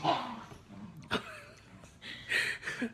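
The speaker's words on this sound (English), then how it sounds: "the dogs are playing, so if they make noises, that's why." Dogs play indoors, giving off a few short yips, whimpers and soft barks at moderate distance, with faint background voice.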